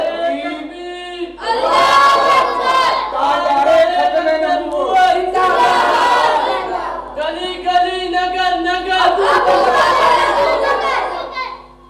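A large crowd at a religious gathering chants slogans in loud rhythmic bursts, call-and-response style, with short pauses between repeated shouted phrases.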